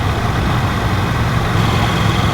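A KTM 790 Duke motorcycle cruises at 2,500 revs in fifth gear at about 35 mph, giving a steady, loud, low engine drone with no speech.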